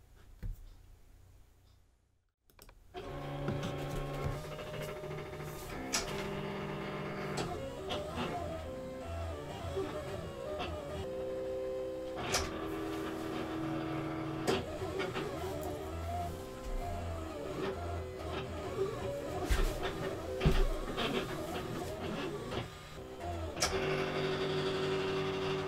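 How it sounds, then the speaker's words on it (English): A Silhouette Cameo 2 cutting machine runs steadily at close range, a continuous motorized whir with shifting tonal hums and intermittent clicks as the carriage moves, starting after a brief quiet moment and continuing to the end. "So I'm going to send that to my silhouette machine."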